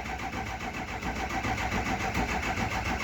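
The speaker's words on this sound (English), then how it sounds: "We're just gonna crank it for a little bit." An engine cranks steadily on low batteries, a continuous rhythmic churning whir heard close and fairly quiet, never catching within the three seconds.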